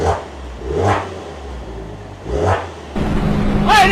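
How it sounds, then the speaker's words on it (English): A Maserati engine revs up in three quick bursts, each rising and falling, the last one climbing higher; loud and close, with no talking. "I'm gonna rev it."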